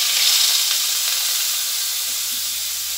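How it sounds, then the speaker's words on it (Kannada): Coconut milk hisses and sizzles steadily in a hot pan with corn powder for shankapushpa halwa, a bright continuous frying hiss with no voices. "ತೆಂಗಿನ ಹಾಲು ಹಾಕ್ತಾಯಿದ್ದೀನಿ."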